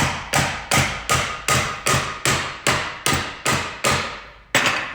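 A hammer taps a Toyota 7.5-inch front differential carrier to split the case, with ten evenly spaced sharp metallic strikes, each ringing briefly before the next, loud and close.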